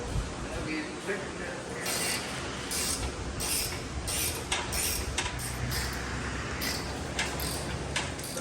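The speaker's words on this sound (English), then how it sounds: "About to loosen the nut." A wrench works a nut loose on the front end of a dirt modified Chevelle, giving intermittent mechanical creaks and ratcheting scrapes at close range, while people talk in the background.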